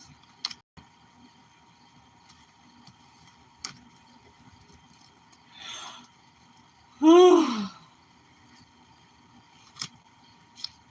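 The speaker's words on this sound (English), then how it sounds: "I've been feeling that yawn for so long and it wouldn't come out" A single long, drawn-out yawn, close and alone in a quiet room, rising then sliding down in pitch, with a few faint ticks before and after.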